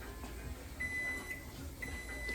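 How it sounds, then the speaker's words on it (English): Kitchen oven timer beeping during a chicken salad cook, two or three thin, high electronic beeps spaced about a second apart over a low room hum, no talk. "There's the timer."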